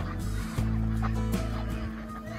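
A flock of domestic and wild ducks kept together on a farm, loud close quacking and honking calls overlapping in quick bursts over a steady din of the flock.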